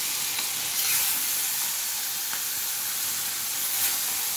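Chopped greens cook in a pan, giving off a steady close sizzling hiss with occasional soft stirring sounds and no voices.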